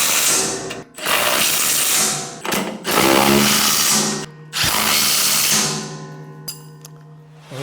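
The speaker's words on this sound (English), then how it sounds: "we move to the left side of the blower and tighten the 4 1/2" bolts that we had loosened earlier" A power tool runs close up in repeated bursts of a few seconds each, tightening 4 1/2-inch bolts on the left side of a MUSKOX snowblower during fan motor service, with no talk.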